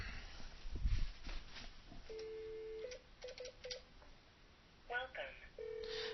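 A telephone line on a VoiceXML gateway with dial tones and a sequence of short keypad beeps, then a steady tone, all fairly faint over background noise.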